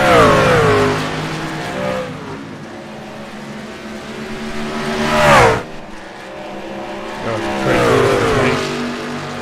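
Racing trucks battle wheel to wheel at Watkins Glen. Engines rise and fall through repeated revving sweeps and gear changes, with a loud close pass-by surging midway, then another climbing engine toward the end, and no talk.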